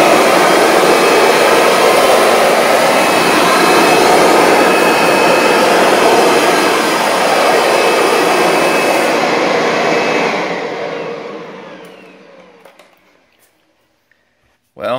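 A Kirby Sentria II vacuum cleaner runs on a bare floor with its brush roll switched off, giving a loud, steady roar for about ten seconds before it winds down to silence, followed by a brief noise at the very end.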